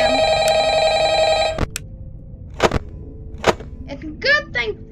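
An old-style telephone rings loudly in Ultimate Custom Night, a steady electronic bell tone for about a second and a half, then cuts out, followed by a few sharp clicks and brief game sounds.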